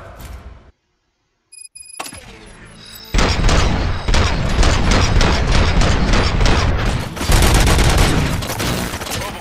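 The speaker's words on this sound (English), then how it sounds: "Gunshots? What's going on?" Loud, dense bursts of gunfire and impacts from the RoboCop Rogue City video game, starting after a short silence and continuing as a sustained, chaotic barrage close up.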